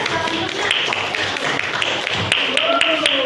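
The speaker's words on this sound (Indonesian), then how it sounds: "Kita kasih tepuk tangan dulu untuk kelompok 3" A classroom of students applauds a student group after its presentation, a steady dense patter of many hands clapping close by, with faint voices mixed in.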